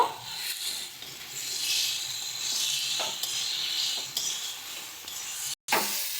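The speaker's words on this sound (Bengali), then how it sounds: "আলুটা দিয়ে ভালো করে মশলার সঙ্গে মিশিয়ে নেব" Pre-fried potatoes being stirred into spices in a pan for raw-banana kofta, steady sizzling with spatula scrapes and a few clinks against the pan, close and continuous with no talking.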